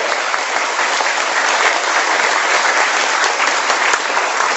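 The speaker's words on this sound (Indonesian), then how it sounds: "Sekali lagi tepuk tangan dong." Close, loud applause fills the room at a presentation event in Jakarta, dense continuous clapping from a crowd holding steady throughout.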